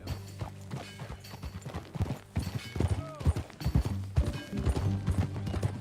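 Horse hooves clip-clop in an uneven, close rhythm, with creaks and a brief whinny-like sound, while music plays underneath.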